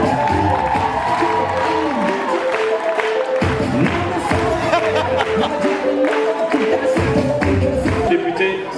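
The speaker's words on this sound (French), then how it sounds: "je vous demande d'applaudir très fort l'arrivée sur ce plateau" A French TV studio audience cheers and claps for a deputy's arrival on set, a dense, sustained wash of applause and crowd noise with voices calling out and music underneath.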